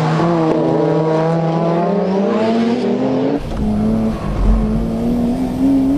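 Front-wheel-drive race cars accelerate hard in a touge battle on a mountain pass, one engine note climbing steadily and loudly before another car's engine cuts in, close and with no talk.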